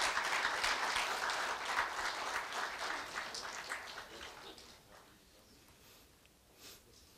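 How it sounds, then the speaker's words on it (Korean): An audience at a university staff retirement ceremony claps in a dense burst that fades steadily over several seconds to scattered claps, heard from some distance and fairly faint. "네, 큰 박수 부탁드립니다."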